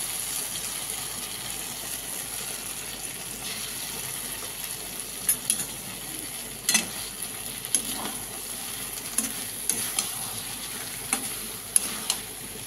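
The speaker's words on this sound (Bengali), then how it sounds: "দিয়ে এবার ভাজা ভাজা করবো।" Soft sizzling of colocasia frying in a pan with mustard paste and green chillies, occasional spoon scrapes and taps, quiet and close, no voices.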